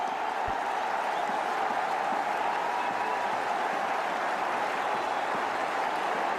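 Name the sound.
cricket crowd cheering and applauding Mominul's fifty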